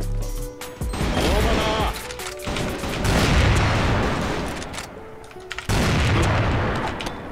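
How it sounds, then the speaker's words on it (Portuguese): Bursts of gunfire and booming impacts from a first-person shooter video game come in irregular volleys, loud and chaotic, with short pauses between clusters of shots. "Dei muito tiro nele"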